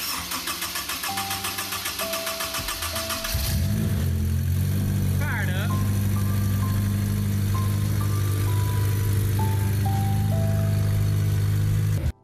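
A rebuilt Honda S2000 engine fitted with a mushroom-style open air filter cranks, catches and settles into a steady, loud idle after a few seconds of starter whirring, with a faint tone and chime in the background.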